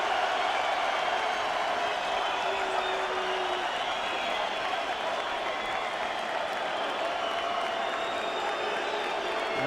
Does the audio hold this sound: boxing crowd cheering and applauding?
yes